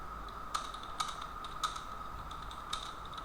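Quick, light key clicks as someone types on a computer keyboard while building an HTML web page, an uneven run of taps with a few firmer strokes, close but soft against a quiet room hum.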